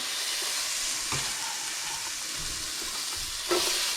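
Onion sizzles steadily in a hot frying pan, a constant bright crackle that holds close and loud from start to finish, with a brief scrape of stirring about a second in and another near the end.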